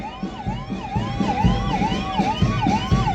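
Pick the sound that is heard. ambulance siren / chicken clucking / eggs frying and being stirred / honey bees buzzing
ambulance siren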